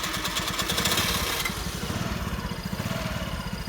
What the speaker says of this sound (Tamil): இனி வண்டி ஆன் பண்ணுறேன்,